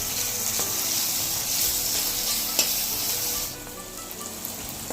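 Onions with salt sauté in a pan for a Kathiyavadi olo, a close, continuous frying sizzle that eases off slightly near the end, with no talking.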